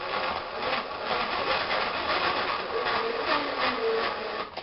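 Steady, continuous whir of a Milwaukee drill motor with a slight grinding texture, holding even loudness throughout, no talking.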